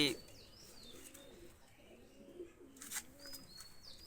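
Pair of Omani teddy pigeons cooing softly, low rolling coos repeating under a voice talking, with a few faint chirps and a brief wing flutter in a quiet setting.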